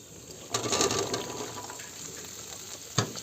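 Chopped winter vegetables dropped into hot spiced oil for khichuri, giving a wet, spreading sizzle with a sharp splash near the start and another clatter near the end, moderately loud and close with no talking.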